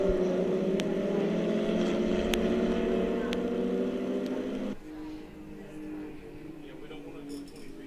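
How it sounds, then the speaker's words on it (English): A ChampCar endurance race car at The Glen drones steadily at high revs, a sustained engine tone that drops in pitch and loudness about two thirds through as it passes, with a commentator talking over it. "See him just easing the car out of there."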